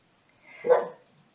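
A single short dog bark from The Sims 4 video game, rising to a peak and fading within about a second, clear and isolated with no talk over it.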